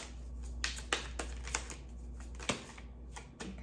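A deck of tarot cards being shuffled by hand, a series of soft, irregular riffling snaps and slaps close up against a quiet background hum.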